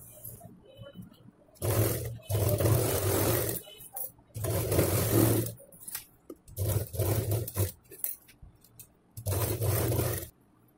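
A sewing machine stitches a seam on a blouse piece. The sound comes in five loud, whirring bursts of one to two seconds each, separated by short silences.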